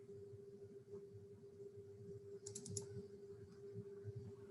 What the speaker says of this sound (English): I am typing the instructions out.